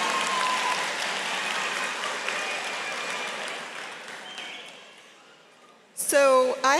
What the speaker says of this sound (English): Please give your loved ones a huge round of applause.